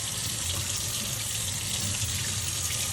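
Running water rinses a hazy telescope mirror, a steady close splashing hiss of tap water that continues without a break.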